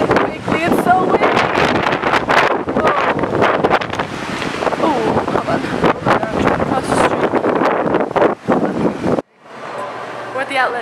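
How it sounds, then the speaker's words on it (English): Strong wind buffets the microphone outdoors near a shopping outlet, a loud continuous rumble with gusts that drops out abruptly near the end, while people talk over it. "it's so windy outside, it's crazy."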